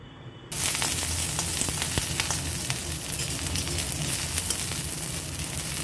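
Curry leaves hit hot mustard oil with mustard seeds in a kadai, setting off a sudden loud, bright sizzle that crackles and spits steadily close by.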